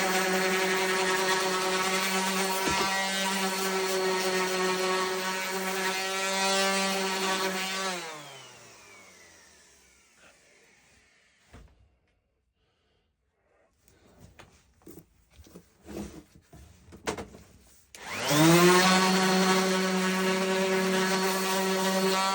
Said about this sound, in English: go over it with the orbital sander afterwards